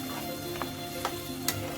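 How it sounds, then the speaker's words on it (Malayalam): A chickpea curry simmers and bubbles in a pan, with a steady low sizzle and bubbling that runs the whole time, broken by a few soft pops. "ഇത് അവിടെ കിടന്ന് തിളക്കട്ടെ."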